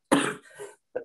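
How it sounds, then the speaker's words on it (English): A sick adult presenter gives a sharp, close cough followed by a brief second cough, with no talking over it. "I'm trying really hard not to cough, but it's coming every once in a while."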